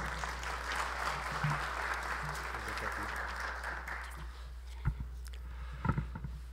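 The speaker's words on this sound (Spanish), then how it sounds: "Lo recibimos con cálidos aplausos." Audience at an international scientific seminar on quinoa in Peru applauding a presenter, a steady wash of clapping under a low hum, fading after about four seconds, then a couple of soft knocks.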